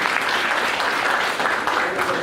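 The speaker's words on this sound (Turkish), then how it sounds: "Alkışlar." Audience applause at a seminar, a steady dense clapping that fills the short clip evenly without pause.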